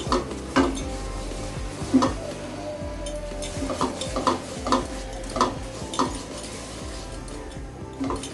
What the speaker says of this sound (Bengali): আমি হালকা আঁচে ভেজে নিচ্ছি